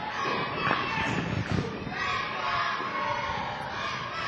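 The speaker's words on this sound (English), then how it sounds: "Huge chant from the crowd now." A wrestling crowd at an NWA Atlanta independent show chants loudly and steadily, a dense wall of many voices filling the arena for several seconds, with a few thuds and shouts rising out of the roar.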